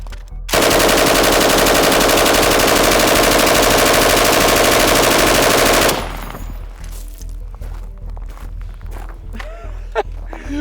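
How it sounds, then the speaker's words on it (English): A long sustained machine gun burst fired from a standing position in Battlefield 6, loud and rapid for about five seconds, then stopping abruptly into quieter footsteps and gear rattle. "let's fire another burst while standing, because I really want to prove to you guys how well this machine gun handles recoil"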